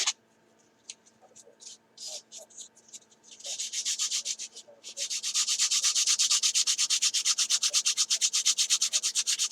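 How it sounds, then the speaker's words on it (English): Sandpaper rubbing on the cowling of a model flying boat, close and steady, with short separate strokes at first that turn into fast continuous rhythmic scrubbing. "Needs a little more sanding right there."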